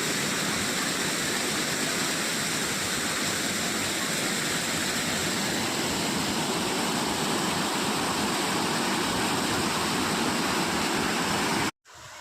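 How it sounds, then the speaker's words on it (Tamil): Water at Kurangani waterfall crashes down in a loud, steady, close roar of broad rushing noise that cuts off abruptly at the end, with no voices. "தண்ணி சவுண்டை பாருங்கள், சரியான சவுண்டு"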